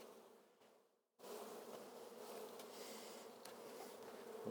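Close, dense buzzing of many bees, a brief dip in the middle before the steady hum returns and carries on.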